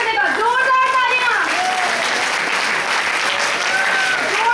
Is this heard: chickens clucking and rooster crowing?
no